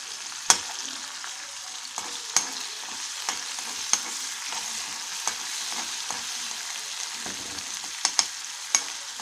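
Green chillies frying in hot oil with ginger garlic paste for chili soya chunks, a steady soft sizzle with a few sharp stirring clicks from a spatula against the pan, close and alone.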